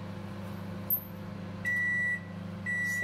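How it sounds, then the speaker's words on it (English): Two steady electronic beeps from an LG microwave oven, each about half a second long, sounding over a low constant hum from the appliance fan. "So now it is beeping, that means I have to open."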